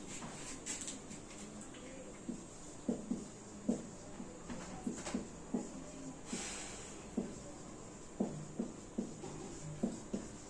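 Chalk tapping and scraping on a classroom board as a physics teacher writes a definition, with soft irregular strokes in bursts against a quiet room hum.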